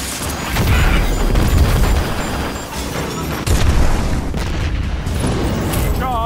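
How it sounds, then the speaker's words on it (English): A detonated charge exploding in the competitive shooter Destiny 2, with a dense rumbling blast and crashing debris amid ongoing game noise, loud and sustained, with a second heavy surge partway through. "Charge detonated."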